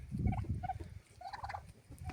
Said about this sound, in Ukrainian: індюшки тут ходять, індюки тут ходять